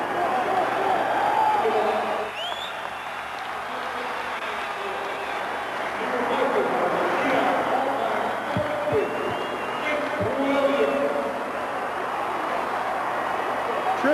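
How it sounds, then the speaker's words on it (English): A crowd in a basketball arena gives a sustained ovation at a 1998 high school shootout game, a broad roar of cheering and clapping that fills the clip, with commentators talking over it. "Terrific ovation from everyone in the stands."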